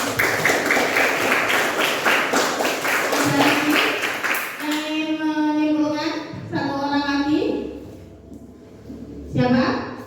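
Classroom students clap for a classmate in a short burst of rhythmic applause lasting a few seconds, then stop as a teacher speaks over a quieter room.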